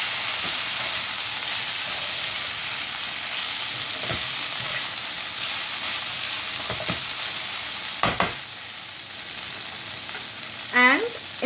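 Okra fries with spices, including coriander powder, in a pan on a gas stove, making a continuous bright sizzle with a few scattered scraping clicks and a faint squeak near the end.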